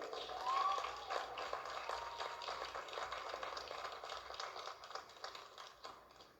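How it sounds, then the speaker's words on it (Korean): A hall audience at the LPBA women's billiards NH Nonghyup Card Championship applauds Kim Ga-young's record fourth straight title with dense, steady clapping that swells early and slowly tapers off. "박수를 보내주십시오"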